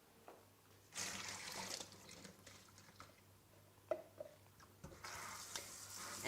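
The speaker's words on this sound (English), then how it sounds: "So you soak it overnight, and then you're going to rinse the quinoa." Soaked quinoa rinsed under running water in a kitchen, a soft rushing pour that comes in separate bursts with sloshing and light clinks in between, fairly quiet and without voices.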